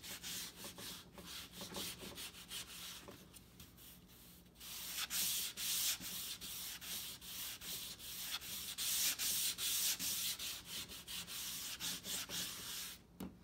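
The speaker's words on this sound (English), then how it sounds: "And I'll use this smoother sandpaper to also sand the top." Smooth sandpaper rubs over a balsa wood glider in rapid, rhythmic back-and-forth strokes, a close, raspy scratching that pauses briefly and then continues more strongly, with no talking.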